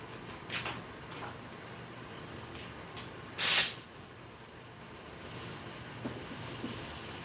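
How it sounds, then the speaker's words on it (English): An airbrush in a mask-making workshop gives a single short, loud hiss of spray lasting about half a second, standing out against a quiet, faint room background. "Airbrush."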